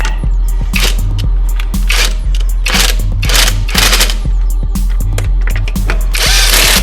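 An impact-style power tool tightens wheel lug nuts on a 1966 Chrysler New Yorker, giving loud, close, repeated rattling bursts of hammering and whirring in an irregular rhythm.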